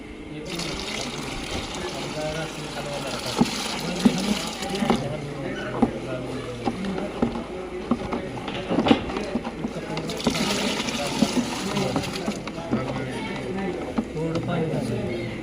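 Water pours steadily into a bucket, a continuous gushing splash that runs the whole time with small clinks and knocks, while people talk over it nearby.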